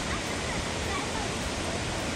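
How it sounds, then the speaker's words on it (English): Fantail Falls, a roadside waterfall just past Haast on New Zealand's West Coast, roars as a steady, dense broadband rush of falling water, close and continuous throughout in pouring rain. "here we look at the fantail falls"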